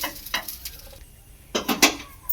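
Potatoes and egg frying in a pan are flipped over, giving a couple of quick metallic scrapes and clinks of a utensil against the pan, separated by a quieter sizzling pause.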